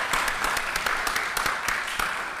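Audience applause for a panelist at a climate change discussion event, a steady patter of claps from a modest group, moderately near, continuing evenly throughout without talk over it.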